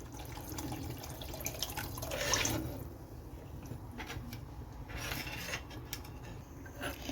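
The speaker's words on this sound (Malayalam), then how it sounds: "ഇനി നമുക്കിതിലേക്ക് കുറച്ച് വെള്ളം കൂടി ചേർത്ത് കൊടുക്കാം." Water pours and trickles into a pan of Kerala-style sardine curry masala, a quiet splashing swell that fades, followed by faint drips and clinks.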